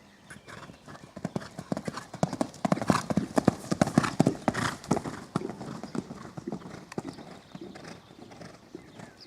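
A ridden horse warming up in an arena trots forward freely, its hooves striking in a steady, rhythmic clip-clop at moderate distance, fairly soft throughout.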